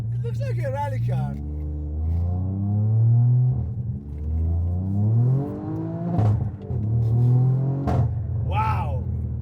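Straight-piped Toyota Yaris GR with anti-lag revs hard up close, rising and falling engine howls with sharp pops and crackles, while excited voices talk over it.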